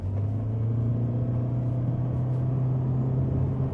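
A 2022 Toyota Corolla Cross Hybrid under hard acceleration from traffic speed gives a steady, loud low engine drone with a strong sustained tone and road rumble. No one speaks.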